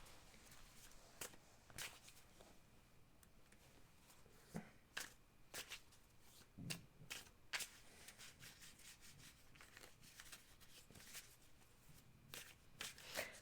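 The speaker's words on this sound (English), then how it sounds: "I'm going to let you shuffle, and you can cut for me." Close, quiet shuffling of a tarot deck: soft rubbing and repeated sharp riffles of cards at an uneven rhythm, with no voices.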